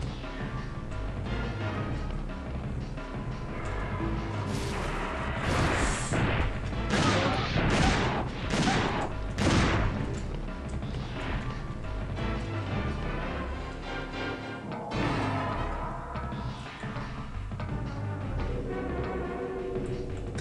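Gunfire from the PlayStation 1 game Dino Crisis 2, with loud dense bursts of shots and crashes over continuous game music and effects, heaviest in the middle stretch.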